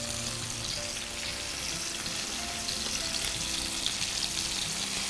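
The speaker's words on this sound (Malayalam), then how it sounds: "നല്ല വൈഡ് മൗത്ത് പാൻ എടുക്കുകയാണെങ്കിൽ എല്ലാ പീസസും ഒറ്റടിക്ക് തന്നെ നമുക്ക് വറുത്തെടുക്കാം" Chicken pieces fry together in a wide-mouth pan, giving a continuous soft hiss and sizzle that stays fairly quiet and even throughout, with no voices.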